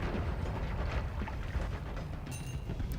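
Dense rumbling explosions and crackling bursts from the video game Noita, a steady low roar with scattered pops and a few bright sparkling flashes near the end, loud and continuous with no talking.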